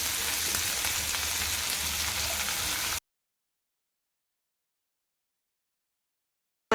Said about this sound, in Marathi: मध्यम आकाराचे चार चिरलेले कांदे कांदे आपल्याला छान गुलाबी रंग येईपर्यंत परतून घ्यायचे आहेत